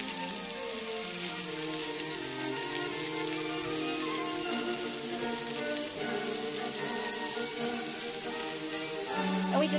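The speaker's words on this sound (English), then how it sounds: "we just want to keep on frying these until you can really smell the green onion coming off" Chopped green onions fry in oil in a pan, giving a steady, close, even sizzle with dense crackling throughout and no voices.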